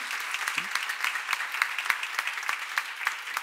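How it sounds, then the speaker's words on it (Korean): A church seminar congregation claps together on cue, a dense, even patter of many hands that carries on steadily for a few seconds with no voices over it. "박수 한번 쳐봐."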